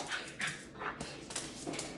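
Excited dogs whimper and whine in short bursts just before being let outside, fairly close and moderately loud, with a person's voice briefly underneath.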